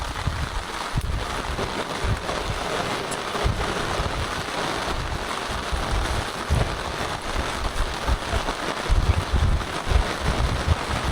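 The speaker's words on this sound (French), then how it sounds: "je vais juste profiter du bruit de la pluie qui tombe sur le tarp." Rain falls steadily on a tarp in Africa, a dense, continuous patter with occasional heavier drips and thumps close by.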